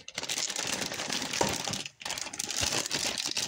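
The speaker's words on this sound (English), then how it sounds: "Now, we got all the air out. The bag is nicely zippered." Crinkling plastic from a zipper bag of seasoned chicken being sealed and handled, a close, steady rustle that runs on with one brief pause.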